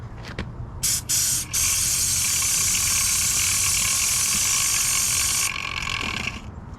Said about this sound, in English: then just spray the cleaner on it